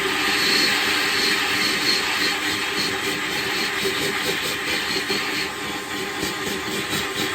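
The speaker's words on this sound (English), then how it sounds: "decided to go with the vacuum and not only suck out any dust or debris, but also to blow out" A vacuum set to blow, pushing dust out of a car's transmission bellows housing, a loud continuous roaring whoosh that holds steady throughout, close up and without talk.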